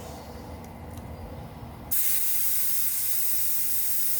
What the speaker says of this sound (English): Now normally when you pull that out, it's going to deflate. All that air is going to come out.